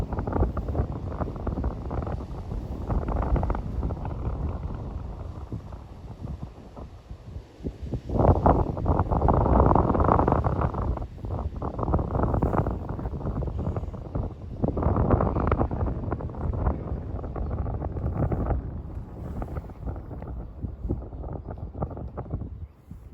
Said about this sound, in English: gusts of wind coming out left, right and centre